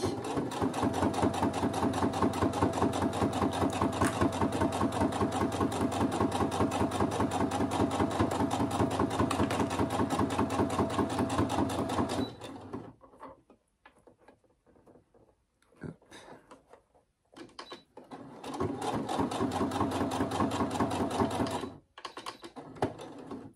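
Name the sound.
sewing machine stitching fabric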